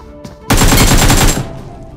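Loud close gunfire from a mobile battle royale game bursts in after a brief lead-in, a dense rapid volley of blasts lasting about a second before trailing off into echoing decay.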